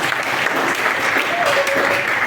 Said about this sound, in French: Je crois que nous pouvons applaudir pour tout le monde.